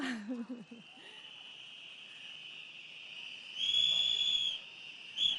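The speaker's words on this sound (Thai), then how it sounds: "เขาเสียงนกหวีดต้อนรับคุณวิเชียนเลยค่ะ" A sustained shrill tone from a crowd blowing whistles at a Lumpini Park rally stage runs steadily through the clip, swelling louder near the end, with a brief voice at the start.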